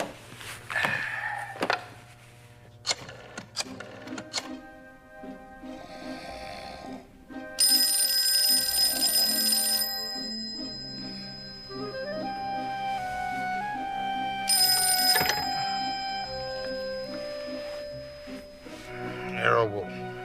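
A telephone rings on a call in a 2001 Nero Wolfe mystery film: bursts of bright electronic ringing alternate with pauses, mixed with clicks, room sounds and people talking.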